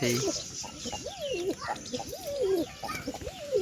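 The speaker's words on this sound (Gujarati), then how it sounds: "જંગલી કબૂતર બેઠા છે" Wild pigeons coo close by in a repeated series of soft, rising-and-falling throaty calls over faint outdoor background noise.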